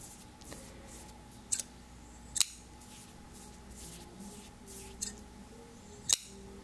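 Several crisp scissor snips trimming small bead-like bits, spaced irregularly across the quiet, close and soft with a low steady hum underneath and no talking.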